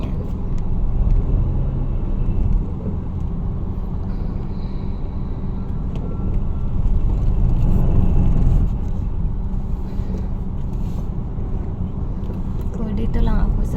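Congested road traffic heard from inside a moving car, a steady low engine and road rumble that swells and fades, with someone talking over it throughout.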